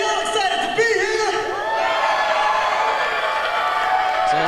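A wrestling event crowd cheers and whoops in a hall, a sustained roar of many voices with rising shouts, mixed with someone talking over it.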